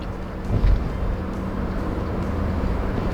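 A Renault Samsung SM5 engine drones steadily from inside the cabin, climbing a hill toward 80 km/h, with a low rumbling hum and road noise, its pitch holding as it climbs, with no speech.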